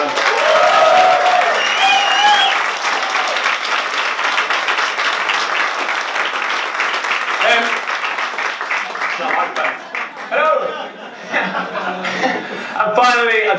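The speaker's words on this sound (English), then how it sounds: "a massive round of applause for our program manager, Flossie." A crowd at a showcase event in Manchester claps and cheers loudly and steadily, with chuckles and scattered voices rising through the applause as it tapers off toward the end.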